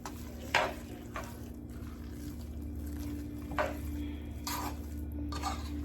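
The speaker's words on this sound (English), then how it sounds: "Give that a mix." Food stirred in a pot during home cooking of steak, potatoes and mac and cheese, with a few brief scraping strokes and light clinks over a steady low kitchen hum, fairly faint.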